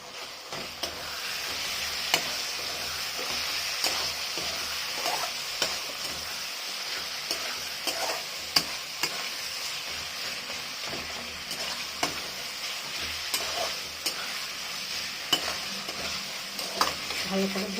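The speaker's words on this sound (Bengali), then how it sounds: "এবার দেবো কিমাগুলো, খাসির কিমা দিয়ে দিলাম।" Mutton mince with its fat sizzles steadily in a hot pan, a constant close frying hiss broken by repeated clinks and scrapes of a spoon stirring, with no talking.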